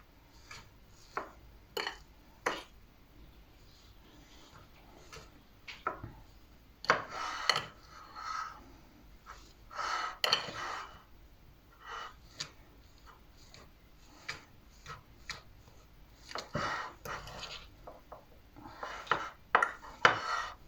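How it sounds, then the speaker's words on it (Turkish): Potatoes being stirred in a bowl with salt, red pepper and black pepper, heard as irregular clinks and scrapes of a utensil against the dish, with soft rubbing between the knocks and no talking. "Patatesimiz içine tuz, kırmızı biber ve karabiber karışımı atıp güzelce Karıştıralım."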